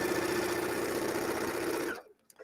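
A sewing machine runs steadily stitching bias binding onto heavy specialty fabric, a loud close mechanical whir and rapid needle rhythm for about two seconds before stopping abruptly, leaving near silence with small handling sounds.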